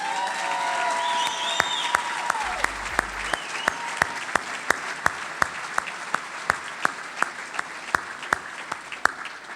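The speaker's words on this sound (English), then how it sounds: "can we get just one more big round of applause for our full class?" Steady audience applause fills an award ceremony hall for an honoured class of young leaders, continuous and moderately loud, with a string of sharp distinct claps cutting through and brief voices early on.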